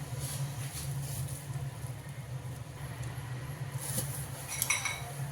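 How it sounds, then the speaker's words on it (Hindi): Spoon clinking and scraping in a bowl as dahi chhole are stirred together with chopped coriander, a steady run of light metallic taps and clinks over a constant low hum, with no one talking. "इसको हम अच्छे से मिक्स कर लेंगे।"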